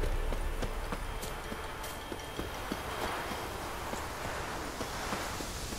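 Horse hooves clip-clopping at a steady walking rhythm in the video game Witcher 3, close and moderately loud over a rustling outdoor ambience, with no talk.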